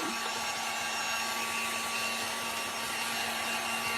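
A hair dryer blowing steadily on a waxed wooden riser during a DIY chippy paint project, a constant close whir with a steady motor hum that holds without a break and no voices.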